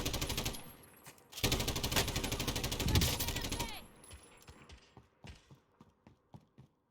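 Automatic gunfire in the video game Call of Duty Warzone rattles in two long, dense bursts, followed by scattered single shots and clicks that fade toward the end.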